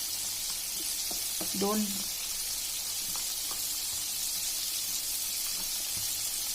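Batter-coated chicken strips deep fry in oil with a steady bright sizzle throughout, while a voice speaks briefly near the start.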